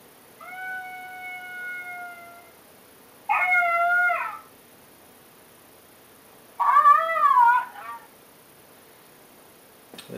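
Three separate drawn-out electronic wails from a FoxPro Spitfire electronic game call imitating a coyote pup howl: a smooth tonal howl, then two shorter wavering, warbling cries spaced apart, loud and close with quiet between them.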